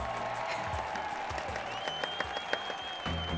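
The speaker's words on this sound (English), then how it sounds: "Let's all give a round of applause for the best chief of staff there ever was" Applause from a crowd gives a round of clapping for a chief of staff, shown as a steady wash of dense claps that carries on from start to finish under a faint sustained tone.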